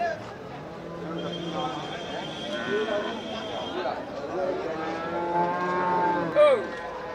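Cattle moo repeatedly at a busy Melapalayam cattle market in Tamil Nadu, drawn-out calls rising and falling over steady crowd chatter and nearby talking voices.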